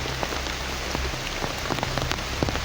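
Steady rain falls on a hard surface nearby, a dense hiss broken by scattered louder drops and splashes.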